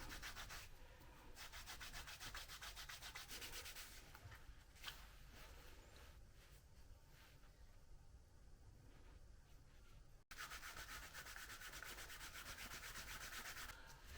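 Edges of a leather barrel hand guard being rubbed down by hand, a faint, steady, rapid back-and-forth scratching with one short pause, close and quiet.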